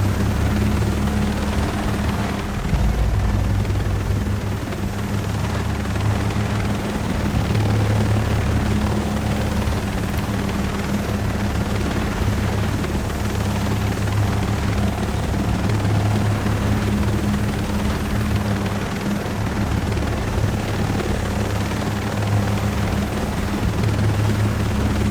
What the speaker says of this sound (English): The helicopter's quite noisy, so I forget I should speak louder when the helicopter's on the map, because that rotor isn't exactly quiet